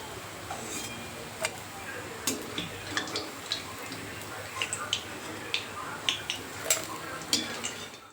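Fried alu vadi being lifted out of a pan makes repeated light taps and clinks of a utensil against the pan over a steady sizzling hiss, evenly spaced and close by.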